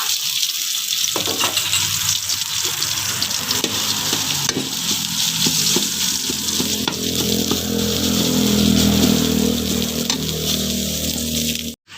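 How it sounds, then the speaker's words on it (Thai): Red curry paste sizzles steadily in a little oil in a hot pan while a utensil scrapes and stirs, a continuous close frying hiss with occasional clinks and no talking. "ตั้งกระทะให้ร้อนใส่น้ำมันนิดหน่อยนะคะใส่พริกแกงเผ็ดลงไปผัดให้หอม"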